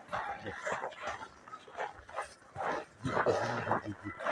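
A young puppy whimpers and yips in repeated short, high, plaintive cries, close and fairly quiet, with a person speaking softly nearby.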